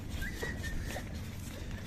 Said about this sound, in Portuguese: O cachorro se agoniou querendo vir.